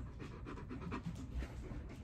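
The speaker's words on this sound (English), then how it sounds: "So you may hear like three dogs in the background." Several dogs pant steadily in the background, a soft rhythmic breathing that stays fairly quiet and continuous throughout.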